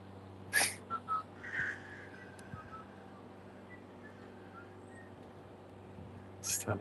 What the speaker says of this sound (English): Just having a whistle while working at the front of a slaughterhouse.